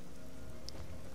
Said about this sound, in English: Oh, Falkreath's always raining.